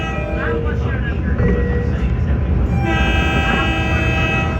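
Long Island Rail Road train running, a loud, continuous rumble and rattle with sustained tonal whines partway through and a shift in pitch near the end.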